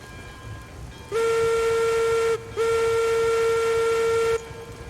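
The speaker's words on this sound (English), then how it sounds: "Looks like we have a train." A steam train whistle blows two long steady blasts with a short gap between them, loud and clear over a quiet background, from a steam locomotive headed to an iron works.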